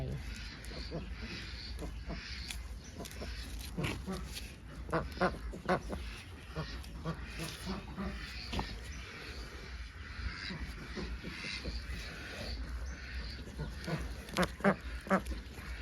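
Ducks quack near a water basin on a farm, with repeated close quacks in irregular bursts while someone talks over them throughout.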